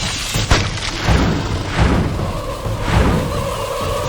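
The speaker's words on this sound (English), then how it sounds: "Ah, you freaking heat-seeking missiles." Heat-seeking missiles hit in the fantasy action game Kingdoms of Amalur: Reckoning. Loud booming thuds land about once per second, each with a short whoosh, over a steady rumbling game background.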